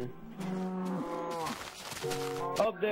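A cow in the Minecraft video game moos a couple of times in quick succession, clear and close, the drawn-out lowing calls filling the short moment.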